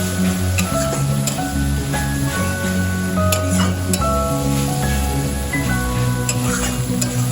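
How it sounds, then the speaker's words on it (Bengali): Spice masala with dry chili powder and two green chilies being stirred in hot oil, a steady sizzle and frying hiss under repeated scraping strokes of the spoon, close and continuous. "মশলাটা আমি ভালো করে নাড়াচাড়া করে নেব।"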